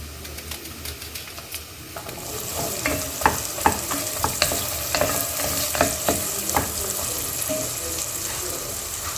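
Onions and vegetables sauté in a pan with a continuous close sizzle, broken by frequent scraping and clacking as they are stirred.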